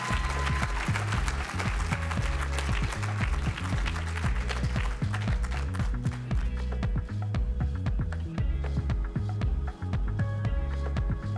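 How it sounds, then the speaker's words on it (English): An awards-ceremony audience keeps up steady applause and rhythmic clapping at the 2023 Astra TV Awards, dense and continuous, with music-like thumping and tones beneath it throughout. "Keep clapping."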